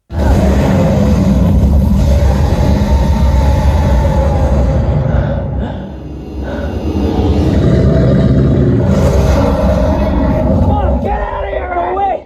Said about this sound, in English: The throaty rumble of the Batmobile in this scene makes me smile every time.